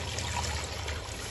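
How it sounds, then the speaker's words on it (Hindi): Water pours into a pan of masala potatoes (masala aloo) cooking on the stove, giving a steady, close trickling splash that continues evenly throughout, with no voices. "इसको आप इस मौके के ऊपर इसमें पानी डाल दें"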